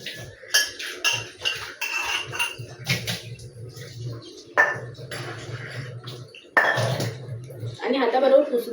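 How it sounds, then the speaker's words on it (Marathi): Pots and utensils clank and clink in a home kitchen sink while being washed, the sharp metallic knocks coming in irregular bursts as someone talks throughout. "अदरवाईज मी लगेचच धुवून टाकते भांडी"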